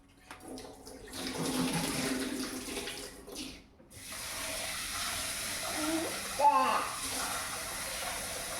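Rice being washed with water from a tap in a home kitchen sink, a close, steady running and splashing wash with a brief pause in the middle before the water resumes.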